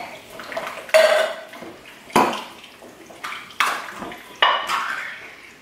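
A metal spoon scrapes and clanks against a large pot of Nebraska blue ribbon chili, giving five loud, sharp knocks at irregular intervals with short rattling tails, no voices.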